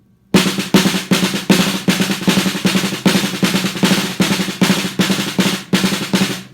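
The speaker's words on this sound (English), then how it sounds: "So I'll play a drum roll that's about this fast." A steady sequence of sharp snare strokes, roughly three per second, each ringing with rattling wires before the next, played alone and evenly.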